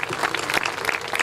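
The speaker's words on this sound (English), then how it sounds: "Can we ask everybody to stand up to give him a big clap?" Brief burst of clapping from a standing dinner audience honoring a guest, Major Langland, in Lahore. Close and moderately loud, with a few sharper claps standing out.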